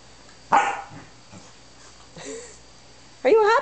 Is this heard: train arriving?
no